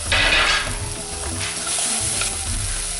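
Crushed garlic and ginger sizzle in a hot oiled pan for a chicken curry, a close, loud frying hiss with bursts of stirring scrapes, especially strong at the start.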